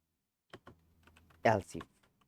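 Close computer keyboard typing of code: a handful of separate key clicks, then a brief quick burst of several keystrokes, with quiet gaps between, in a silent room.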